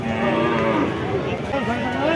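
Cattle low at a busy cattle market in Satmail, Jessore, with drawn-out moos close by over a steady crowd murmur and background chatter.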